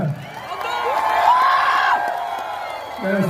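A large crowd in Karkala, gathered for actor Upendra, cheers and whoops loudly. The roar swells to a peak, then eases and picks up again near the end.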